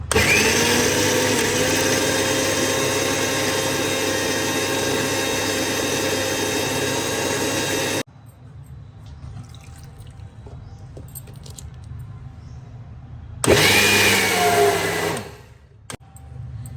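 A mixer grinder whirs loud and steady for about eight seconds as it grinds a fine paste with salt and a little water. After a quiet pause with faint clicks, a second burst of two seconds follows.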